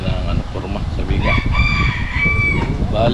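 A rooster crows once in a drawn-out, wavering call that rises over a constant murmur of background noise and low thumps.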